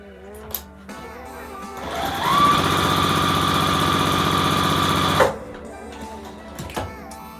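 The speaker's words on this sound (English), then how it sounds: "We're just going to sew on that line that we've marked on our stitch and flip squares." Sewing machine stitching quilt pieces along marked lines in stitch-and-flip squares, a loud close whirring run of about three seconds that starts and stops abruptly, with quiet handling clicks before and after.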